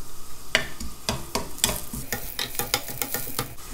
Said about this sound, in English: I'm going to add some sautéed mushroom to it to give it some flavor